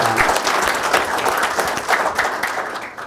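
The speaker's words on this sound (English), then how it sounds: "Round of applause for the panelists" Sustained audience applause for the panelists at a mineral exploration industry event, dense steady clapping filling the room at close range with a few scattered cheers.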